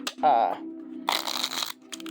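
A short burst of soft riffle-shuffling of a deck of playing cards, close by, following a brief bit of talk.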